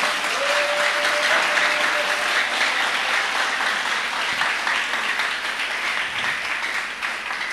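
A church congregation applauds the Lord, a dense, sustained wash of clapping from many hands, loud and steady throughout, with faint voices inside it.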